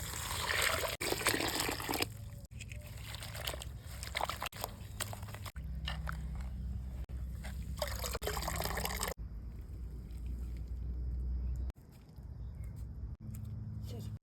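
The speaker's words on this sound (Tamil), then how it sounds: "பூவை நல்லா கழுவி எடுத்துருவோம்" Fresh neem flowers are rinsed in water in a country kitchen, with continuous splashing and trickling, handling noises and a few soft thuds throughout, and talk heard in the background.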